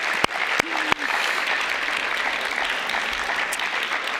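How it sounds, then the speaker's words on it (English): An audience at an international literature festival opening in Berlin breaks into a round of applause, steady and moderately loud after a few sharp knocks at the start. "Can we give a round of applause for that?"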